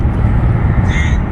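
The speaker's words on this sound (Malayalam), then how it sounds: "കാക്കകളുടെ സൗണ്ട്" Crows caw harshly against a dense, loud background rumble at Al Safa Park, Dubai, with a higher call rising briefly toward the end.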